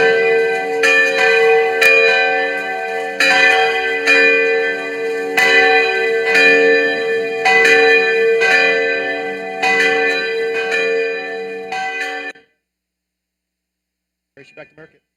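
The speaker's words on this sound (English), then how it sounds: "All right, ring those bells, people. Ring those bells." Bells ringing at the Texas Tech ring ceremony, loud and near, with repeated rhythmic peals for about twelve seconds that then stop abruptly, followed by a short burst of distant voices.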